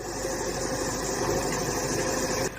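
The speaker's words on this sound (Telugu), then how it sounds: "జేసీబీ లోడింగ్కి వచ్చాం" A JCB loader's engine runs with a continuous, even diesel rumble and hiss while it loads murram soil from a pond bed into tractors on a hot summer day. The drone is close and unbroken, with no voices.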